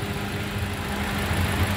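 A 2018 Toyota Rush TRD with manual transmission idling steadily up close, a smooth even low engine hum with no talking over it.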